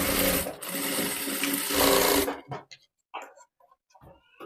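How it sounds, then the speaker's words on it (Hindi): A sewing machine runs a double line of stitching on a designer blouse, a fast steady mechanical whirr for about two seconds, then stops, leaving a few faint clicks and handling sounds. "तो मैं इसमें डबल सिलाई लगा रही हूँ।"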